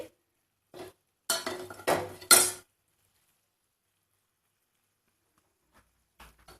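A spoon scraping and clinking against a pan while wheat halwa with ghee is stirred, a few short close bursts of metallic stirring separated by silence, with faint taps at the start and end.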